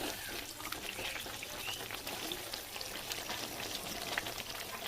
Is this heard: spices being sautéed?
yes